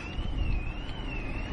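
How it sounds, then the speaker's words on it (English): A car alarm wails nearby at a beach outing, one steady, wavering siren tone over wind and low rumble. "One of the car's alarms were going off."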